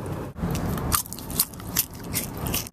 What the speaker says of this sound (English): That's the sound of me pounding down a Cheetos.